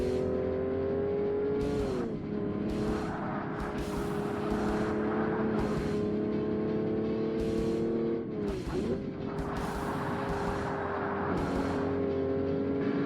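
Race cars in Forza Motorsport on Xbox, a steady engine drone with pitch drops at gear shifts and other cars roaring close behind, continuous and moderately loud.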